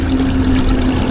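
Water flowing in near a fishing spot, a short, loud, steady rushing and trickling gush close by, with no voices.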